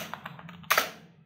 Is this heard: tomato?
no